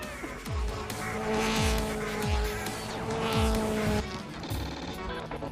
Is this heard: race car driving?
yes